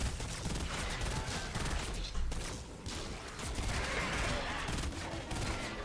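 Gunfire from a military rifle in the video game Fortnite Save the World, a dense run of shots layered with mechanical clatter and rumbling game noise, steady and fairly busy for several seconds.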